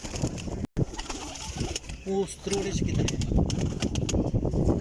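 Pigeons coo softly amid a busy, noisy background, with flutters and murmuring voices nearby, at a pigeon loft of about 31 birds in Jhelum.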